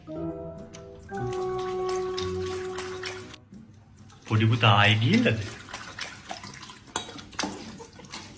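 Water runs in a home bathroom during washing, a steady splashing stream with a louder gush partway through, while a person talks over it.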